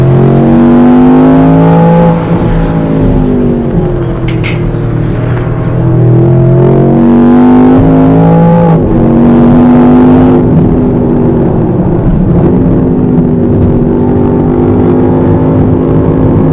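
A Range Rover Sport SV engine revs loudly on a track in SV mode, heard from inside the cabin, with rising and falling engine tones as it climbs through gears and eases off, with no talking.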